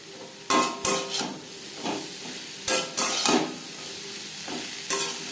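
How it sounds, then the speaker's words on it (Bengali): Potatoes and onions sizzling in a pan with turmeric, stirred in scattered scraping bursts by a spoon against the pan, separated by quieter stretches of frying. "পেঁয়াজের সাথে আলু বেশ ভালো করে মিক্স করে দেবো"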